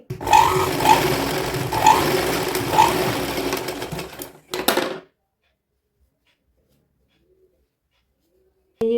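A sewing machine stitches elastic onto a baby girl's midi dress, running steadily and fairly loud for about four and a half seconds before stopping, followed by silence and a brief final burst of sound.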